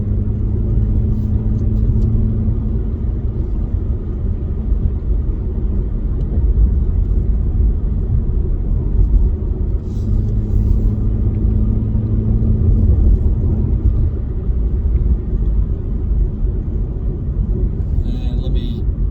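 Cabin sound of a 2016 Ford Mustang V6 fitted with a Beluga axle-back exhaust and EX-F02 muffler, a steady low engine and exhaust hum with road rumble, no strong drone, and small shifts in tone as the car cruises.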